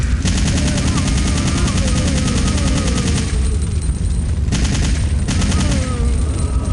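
Assault rifle gunfire in the game Resident Evil 3, loud rapid automatic bursts that crackle almost continuously, with two short gaps before the firing resumes.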